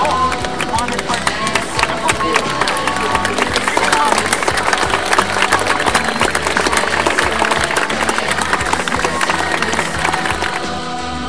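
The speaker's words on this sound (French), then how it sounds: "Donc je voudrais faire un applaudissement à cet héros, Mohamed Bouazizi." An audience breaks into sustained applause for Mohamed Bouazizi, dense clapping and some cheering from a crowd, loud and steady for about eleven seconds.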